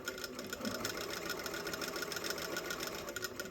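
A home sewing machine runs in one continuous, fairly quiet hum while ditch stitching a seam on Birchgrove pants, with no voices.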